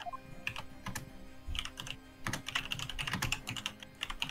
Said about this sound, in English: Damn, Neo's typing fast.